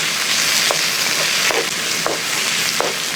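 Green chillies sizzle steadily in a hot pan for kuska biryani, with a few sharp scraping strokes of a spoon stirring them at irregular intervals over the continuous frying hiss.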